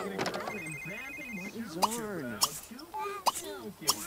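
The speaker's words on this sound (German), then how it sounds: "Es läutet, aber wo?" A telephone rings in The Sims 3, repeated electronic ring bursts with bright warbling tones, while someone talks over them.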